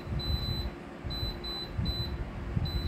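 A multifunction air fryer oven control panel gives a string of short, faint electronic beeps as its timer is set, repeating at irregular intervals over a low hum of background noise.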